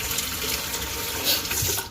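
Tap water runs steadily over fresh thyme sprigs in a sink, making a close, continuous splashing wash with no voices.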